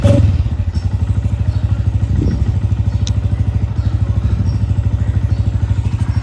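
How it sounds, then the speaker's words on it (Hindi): A motorbike engine idles steadily and up close with a fast, regular low throb, a brief clunk partway through and no talking. "गाइस बाइक स्टार्ट कर ली है अभी हमने,"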